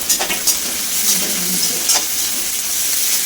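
Onions sizzle steadily as they fry in a pan for a chicken perattu, with a few stirring scrapes of a spoon rising over the constant hiss.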